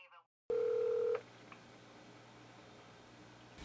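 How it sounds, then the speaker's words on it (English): Telephone keypad tone followed by a steady dial tone, a single sustained beep lasting under a second, then a quieter hum with faint clicks, fairly close and alone with no talking. "I have to call Daylily"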